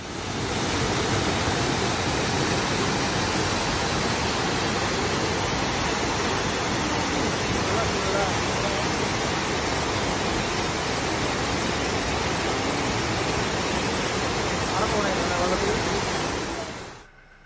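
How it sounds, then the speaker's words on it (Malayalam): Steady, loud, broadband roar of Cheeyappara waterfall beside the road to Munnar in Kerala, continuous and unbroken for the whole stretch before cutting off abruptly at the end. "ഇത് നമ്മൾ മൂന്നാറിൽ പോകുന്ന വഴിയിൽ കാണുന്ന ചീയപ്പാറ വെള്ളച്ചാട്ടം എന്നാണ് തോന്നുന്നത് അതിൻ്റെ പേര്"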